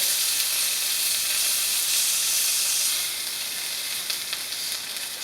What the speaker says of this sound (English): So here are our steaks, hot off of the skillet.